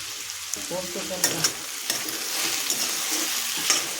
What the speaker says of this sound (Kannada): ಎಲ್ಲವನ್ನು ಚೆನ್ನಾಗಿ ಫ್ರೈ ಮಾಡ್ಕೊಳ್ಳೋಣ